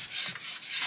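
Rust being rubbed off a Ponsness Warren Size-O-Matic 900 shotshell press: a short, close, gritty back-and-forth scrubbing in two or three quick strokes.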